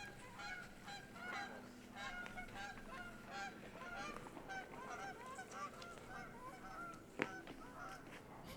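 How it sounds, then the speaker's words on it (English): Many geese honking at a distance on a disc golf course, repeated overlapping calls continuing throughout, with a single sharp clack partway through. "A lot of geese around here, as you can clearly hear."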